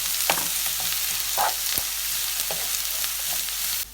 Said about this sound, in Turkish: Şimdi içerisine bir adet soğanı ilave edip kavuralım.